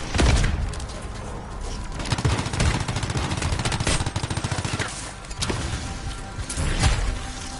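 Rapid bursts of automatic gunfire and a fusillade of shots in the video game Anthem, loud and dense, with heavier booms near the start and end.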